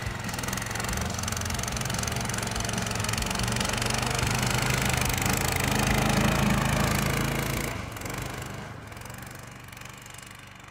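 A Draxter tracked snow scooter engine runs steadily with a loud, continuous knocking drone, easing slightly in level toward the end. No one speaks.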